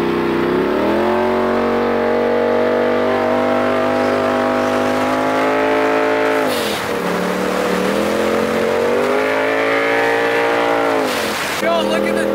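A straight-piped Polaris RZR Turbo S side-by-side in four-wheel drive accelerates hard, its loud, close exhaust drone climbing through gears with a turbo whine and brief whooshes at two shifts, under occasional voices of the riders.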